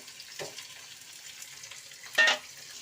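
Crab pieces going into oil with bay leaf: a quiet, steady sizzle with two short clattering bursts of stirring or pieces hitting the pan, the second louder.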